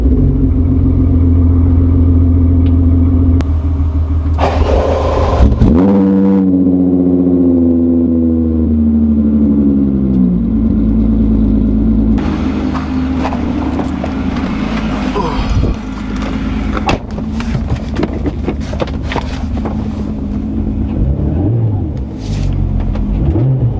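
A Volkswagen Golf R32 driving, with a loud, close engine drone that revs and shifts through gears, rising and falling in pitch, while people talk inside the car.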